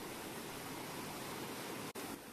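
Mountain river rushing over rocks in the French Pyrenees, a steady broadband roar with no pauses and a brief dropout near the end.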